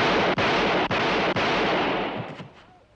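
A guard fires a gunshot at an escaping prisoner: a loud broadband roar of gunfire with three sharp cracks at close range, then the sound tails off into quiet.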